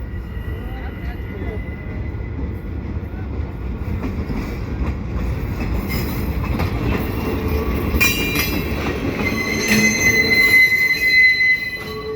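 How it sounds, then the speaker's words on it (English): A CN freight train of empty well cars rolls past close by, caboose first, through the Old Port of Montreal, with a steady rumble and piercing high-pitched wheel squeals rising and falling over it. "here we have the train coming through Port of Montreal with the caboose first"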